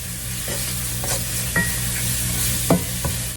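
Onions and garlic sautéing in a skillet: a loud, steady sizzle close by, with a few brisk utensil scrapes and taps as they are stirred, no voices.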